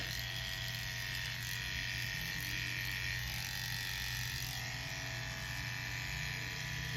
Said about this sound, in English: Shave it all the way off.